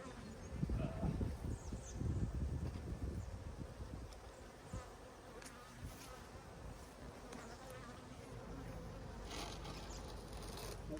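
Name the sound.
bees buzzing around a beehive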